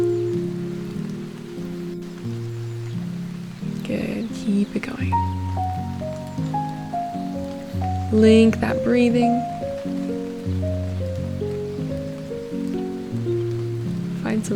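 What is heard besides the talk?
rain falling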